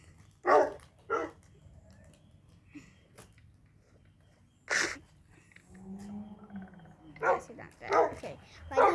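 A dog barking in the Minecraft video game, sharp separate barks in short bursts, a pair near the start, one mid-clip and several toward the end, with talk in between.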